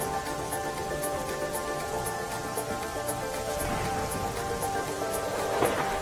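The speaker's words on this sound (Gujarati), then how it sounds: "ભારે વરસાદ બાદ વણસી પરિસ્થિતિ" Heavy rain pours down in Jamraval village, Dwarka district, Gujarat, a steady, even hiss of falling water that holds at a constant level throughout with no voices.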